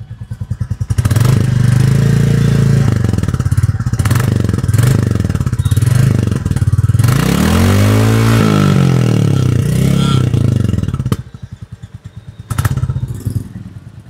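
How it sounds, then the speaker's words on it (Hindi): A 2024 Royal Enfield Standard 350 single-cylinder motorcycle engine thumps loudly up close, throttled up into rising revs and dropping back to a steady idle, then cutting off briefly. "बाकी एक बार थ्रोटल देके देखते हैं वहाँ पर साउंड किस तरीके की है।"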